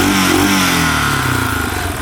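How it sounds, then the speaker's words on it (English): A repaired 4x4 ATV engine revs high and holds a steady, buzzing roar, loud and close, easing off slightly toward the end. "Revs out pretty good now."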